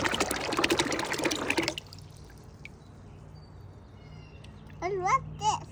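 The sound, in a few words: pouring paper pulp and water into a tub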